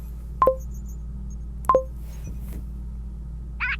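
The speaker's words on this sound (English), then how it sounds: "I need to make a phone call" A telephone dials with two short, sharp electronic tones about a second apart, loud and near, over a steady low hum, followed by a faint brief blip.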